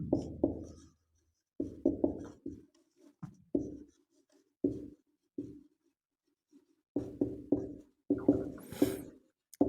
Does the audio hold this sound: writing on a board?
yes